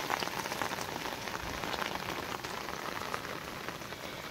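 Steady rain falling during a chilly rainy spell, a dense even patter of drops on a surface, moderately close and uninterrupted.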